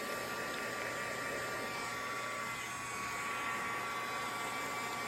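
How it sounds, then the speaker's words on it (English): A heat tool blows hot air to dry ink on a handmade card, with a steady, continuous whirring hiss at close range throughout. "now I'm going to hit this with my heat tool just so that I can get it a little bit dry"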